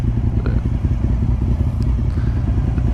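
A Honda RC51 SP2 V-twin motorcycle engine runs with a loud, steady, low throbbing rumble and faint mechanical clatter, close by and with no voices.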